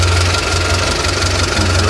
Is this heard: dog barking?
no